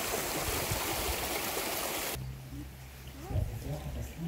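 Water rushing at the Köninghütte waterfall in Germany, a loud broadband roar that cuts off abruptly to a quieter trickling stream with faint voices nearby.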